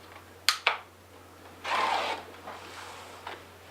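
A fabric strip cut with a blade along a quilting ruler on a cutting mat: two sharp clicks as the ruler is set, then a half-second scraping swish as the cut is made, close and quiet.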